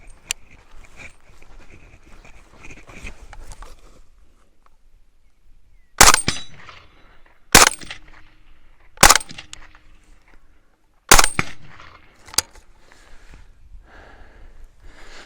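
Sharp rifle shots from a Steyr AUG in .300 Blackout striking a steel gong, five loud separate cracks spaced a second or two apart, each with a brief ringing tail, after a few seconds of quiet background noise.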